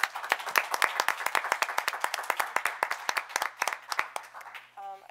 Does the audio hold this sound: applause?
yes